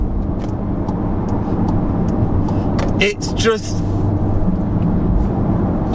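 A tuned 600bhp Volkswagen Golf R engine and exhaust holds a steady, loud rumble throughout, with a brief dip and swell near the middle, under someone talking.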